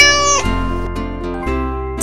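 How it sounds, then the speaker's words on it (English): A cat meows in a short, clear cry, loud and close over a steady backing tune, with no talk. "Cat."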